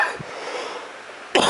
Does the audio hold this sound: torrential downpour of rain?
no